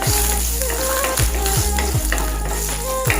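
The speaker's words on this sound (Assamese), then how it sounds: "এতিয়া মই গোটেইকেইটা ভালদৰে ভাজি ল'ম।" Loud, close sizzling of whole spices (cloves, cardamom, cinnamon) frying in hot oil, a constant crackle with a few soft knocks against the pan.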